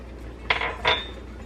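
Two quick metallic scrapes and clinks of a utensil stirring pepper, salt and sugar into cooking vegetables in a pan, close and brief over a low steady hum.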